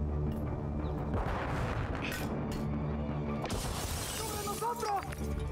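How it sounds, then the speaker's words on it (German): A flashbang grenade in Call of Duty Modern Warfare 2 bursts with a sharp, shattering bang, followed by ringing, dense battle noise. A later burst of gunfire and debris comes under a steady rumble, with someone talking in German. "Ja, eine Blendgranate."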